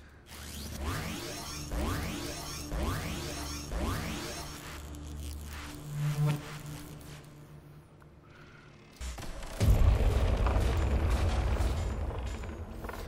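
A loud, broad explosion rumbles near the end of a stretch of sweeping whooshes and effects in the VR video game Gravinoid, with a deep boom that lingers for several seconds.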